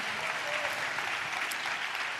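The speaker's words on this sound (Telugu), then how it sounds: "ఈ దేవునికి చప్పట్లు కొడుతూ స్తోత్రాలు చెప్దాం." A church congregation claps steadily in praise of God, a quieter, even patter of many hands that stays level throughout.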